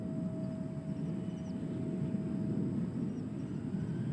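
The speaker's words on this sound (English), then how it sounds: "that's got to be a fighter jet, I would think." A military fighter jet flying over Nashville airport: a distant, steady low roar with a faint high whine across several seconds, heard alone with no talk.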